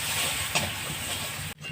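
Sliced onions sizzle in dark, reused oil left from frying fish, a dense, steady hiss that continues close up before cutting off sharply, with a brief clink partway through.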